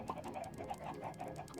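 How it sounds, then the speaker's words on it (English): Chickens in a Minecraft-style block game cluck faintly in a rapid, continuous patter, quiet and slightly distant. "getting tons of chickens to swarm this place"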